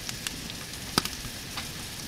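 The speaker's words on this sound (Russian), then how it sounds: "пока будет жариться лучок, буду резать грибочки" Onion fries in a pan on a wood-burning camp stove outdoors, a faint, steady sizzle with a few sharp crackles and pops.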